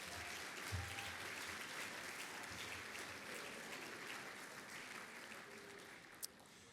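A conference audience applauds its chapter presidents, vice presidents and faculty advisors, a steady, distant-sounding wash of clapping that carries on evenly at a modest level, with one sharp louder clap near the end.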